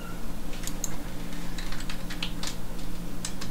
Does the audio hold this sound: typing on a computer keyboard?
yes